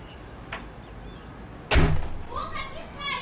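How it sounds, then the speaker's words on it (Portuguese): A door slammed hard indoors at home, one loud sharp bang with a brief rattle and faint earlier knock, followed by raised voices talking. "Para de bater a porra da porta!"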